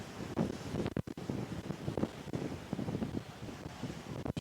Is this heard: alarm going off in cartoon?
no